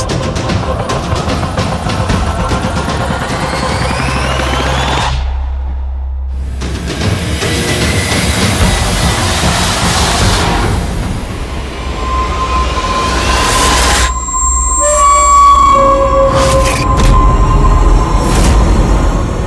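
Rumbling interior of a moving train, with continuous rolling rail noise, wheel and track clatter and occasional squealing tones, loud and close throughout.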